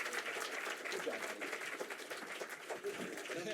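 An audience claps at the close of a speech in a debate on the non-aggression principle, a moderately loud, slightly distant patter of applause with some murmuring voices mixed in.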